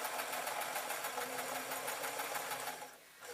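A sewing machine stitches a pillow case in a steady, rapid, continuous run that stays close and loud, then briefly slows and eases near the end.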